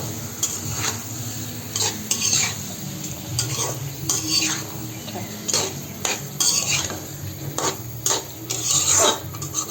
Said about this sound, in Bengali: ভালোভাবে নেড়ে চেড়ে দিয়ে ভালোভাবে কষিয়ে নেব।